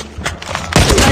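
Gunfire in a Call of Duty sniper match in a kill house map, a few sharp muffled shots followed by a loud burst of firing close up, with in-game voice callouts around it.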